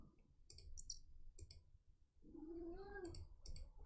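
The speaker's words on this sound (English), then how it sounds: "My cat is not happy with me right now." A housecat meowing and yowling in a home, with one drawn-out complaining cry midway, surrounded by a few sharp clicks against a low background hum.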